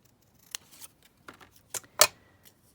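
Scissors cutting out a paper label, a handful of sparse, quiet snips and crisp clicks spaced irregularly, close by against near silence, with no talk.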